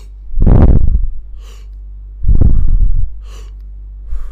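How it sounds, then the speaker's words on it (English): Deep breathing exercise, two slow, loud breaths close to the microphone, each lasting under a second, separated by a pause with a steady low hum underneath. "so you can actually hear me breathing"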